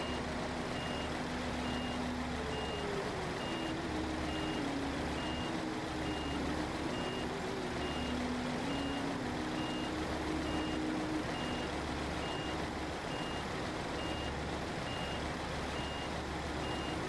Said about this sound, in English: More ASMR reverse beeps for everybody.